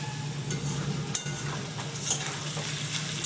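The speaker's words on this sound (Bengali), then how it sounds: "আলু ভাজাটা হয়ে যাক" Potatoes frying in a pan give a steady, close sizzle with faint crackles and a few sharp pops scattered through, and no voices.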